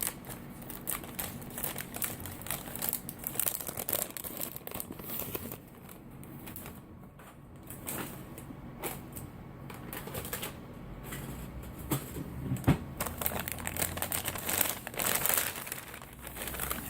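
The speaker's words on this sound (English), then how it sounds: "so I'm going to cheat and use scissors." Crinkling plastic military ration packaging with scissors snipping through it, a busy run of rustles, crackles and sharp cuts close to the microphone.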